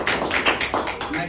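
A short burst of audience applause at an indoor event, a quick cluster of claps at moderate distance with voices mixed in.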